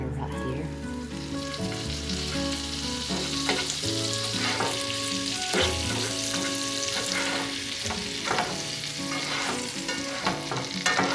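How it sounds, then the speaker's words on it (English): Butter sizzles steadily in a pan as sandwiches toast, a continuous close frying crackle with scraping and tapping of a utensil over a low background hum. "let's see if I can get these toasting right and not burn them"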